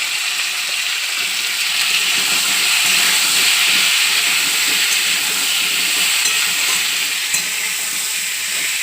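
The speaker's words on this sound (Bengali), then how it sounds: "লাউ শাক ভাজা হয়ে গেছে" Gourd leaves fry with turmeric in a pan, a loud, continuous close-up sizzle and hiss of steam holding steady throughout, with faint stirring scrapes underneath.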